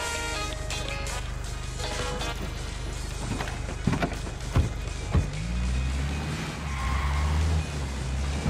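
A car driving in the open-world shooter Ghost Recon Wildlands: a steady low engine drone throughout, with a few sharp knocks and thumps midway and the motor swelling toward the end.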